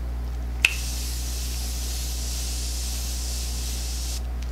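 A single short burst of Tarte Miracle Mist setting spray hisses close to the microphone, followed by a long stretch of quiet room tone and a faint second hiss at the very end.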